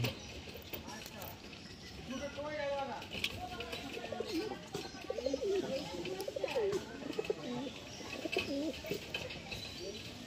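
A male Andra Fulsira pigeon coos in a series of soft, wavering calls at close range, over a steady background hiss.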